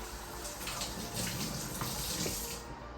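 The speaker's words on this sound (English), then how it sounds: "And then what I do is I rinse these out like so" Tap water runs steadily over freshly cored peppers being rinsed in a kitchen sink, a continuous close splashing hiss with no talking.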